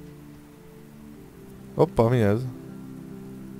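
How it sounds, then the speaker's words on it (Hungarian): Steady rain falls in a homeless simulator video game as a soft, even wash throughout. Someone speaks briefly over it midway. "Nem, még esik az eső is."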